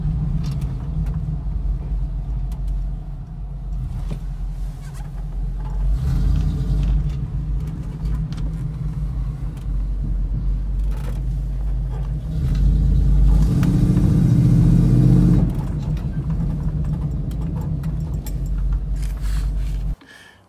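A 1988 Chevrolet K5 Jimmy with a 5.7 V8 driving, a steady low engine rumble and road noise heard from inside, swelling louder as it accelerates midway before settling back, no talk.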